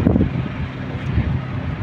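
Strong wind blows across a construction site in Saudi Arabia, heard as a brief, loud, low buffeting rumble against the microphone.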